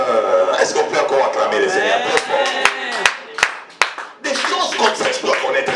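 Church congregation clapping and applauding loudly in acclaim of the Lord, a dense continuous burst with a few sharp individual claps standing out and a brief dip before the applause surges again; voices mingle underneath.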